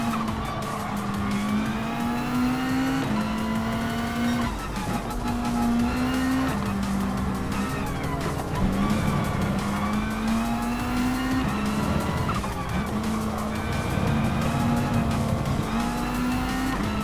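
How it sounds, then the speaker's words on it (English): Tires squeal in long repeated wails over a roaring race car engine in Gran Turismo Sport, loud and continuous as a Hyundai slides through corners. "The squealing of the tires isn't as obnoxious as it was"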